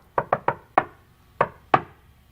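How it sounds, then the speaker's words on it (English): Six sharp knocks on a wooden door in a coded rhythm: three quick raps, a pause, one rap, then two more spaced apart, close and clear with no talk. "I'm gonna knock like this."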